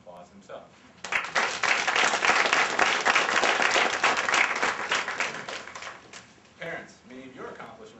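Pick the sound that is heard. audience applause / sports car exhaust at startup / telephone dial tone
audience applause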